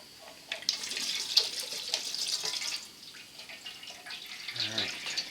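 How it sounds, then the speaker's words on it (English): Diesel fuel drains in a steady liquid trickle from a Duramax truck's fuel filter onto a rag during a water sensor replacement, quiet and close, with a brief voice near the end. "Okay, so here comes the fuel."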